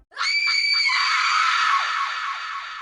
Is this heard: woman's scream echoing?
yes